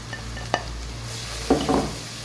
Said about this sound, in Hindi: अच्छी तरह मैं इसकी भुनाई करूँगी।